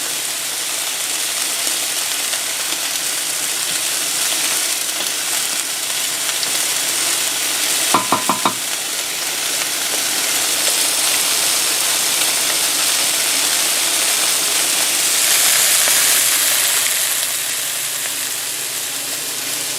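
Pork braciole browns in a hot pan with a loud, steady sizzle and frying hiss that swells near the end, broken once by a brief metallic clink, with no talking.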